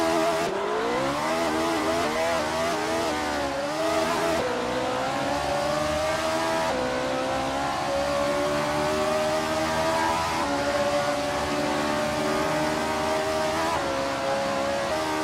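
A field of 1970 V8 race cars in a racing game accelerates from the start at Imola, loud layered engine wails climbing through gears with rising and falling pitch, continuous and dense, with no talk over it.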